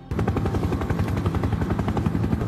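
A helicopter flies close overhead in a film scene, its rotor blades beating in a fast, loud, steady chop throughout.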